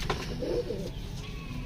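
A pigeon gives a brief low coo, close and soft, over a steady background hum.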